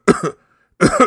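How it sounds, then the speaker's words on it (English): Two sharp coughs, a short pause of silence, then another double cough, close and loud. "How long have you had that cough?"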